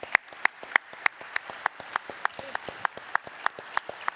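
Audience applause at a festival opening ceremony, heard as sharp, evenly spaced claps in a steady rhythm, like a crowd clapping in unison, fairly close and prominent throughout.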